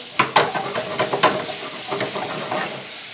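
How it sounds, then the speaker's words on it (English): Yellow onions sizzle in a pan, a bright crackling hiss broken by several sharp popping bursts early on, then settling into a softer steady fry, heard up close. "All right, let's get some onions going in here. Some yellow onions."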